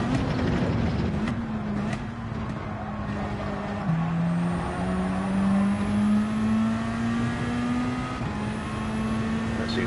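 A race car engine in the Gran Turismo 7 game, Dragon Trail circuit, revving steadily with rising and falling pitch through gear changes, loud and continuous with no talk.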